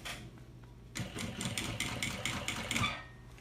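A sewing machine stitches a seam on a small thermal bag. After a brief quiet start it runs in a rapid, even mechanical rhythm of needle strokes, moderately soft and close, with no voices.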